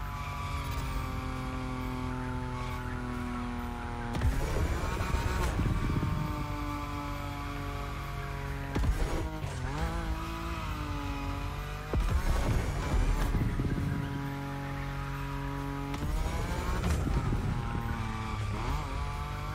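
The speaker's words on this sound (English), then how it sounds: "Your Nismo is powerful enough to slide along on its own when you're at high speed" A Nissan Nismo drifts at high speed in The Crew Motorfest, its engine droning steadily while loud tire squeals flare in repeated bursts every few seconds.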